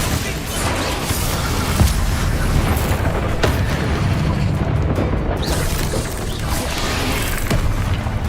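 Spell blasts and explosive booms from combat in the Hogwarts Legacy video game, a dense continuous barrage of loud impacts and crashes with no clear gaps between them.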